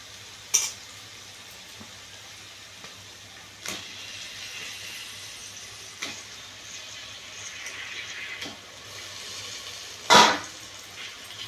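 Onions and tomatoes sautéing on a low flame in a pan for chicken biryani, a faint soft sizzle broken by a few sparse stirring scrapes and a sharper clatter near the end. No voices.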